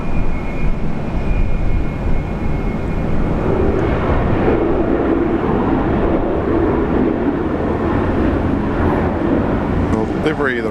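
Virgin Australia Boeing 737-800 from Melbourne at Brisbane airport, a steady broadband jet roar holding loud and even throughout, heard from the ground at sunset with no talk over it.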